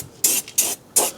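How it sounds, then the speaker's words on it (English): Three short bursts of hissing sealant from an aerosol spray can onto a car's surface, each lasting under a quarter second with brief pauses between, close and fairly loud. "So I'm going to spray it on here first,"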